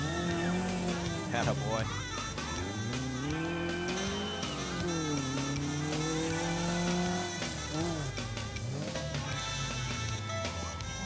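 Rally cars, including a 1959 Mini and a Citroen CX, race on a road stage, engines revving loudly with rising and falling pitch throughout, mixed with music and a voice speaking.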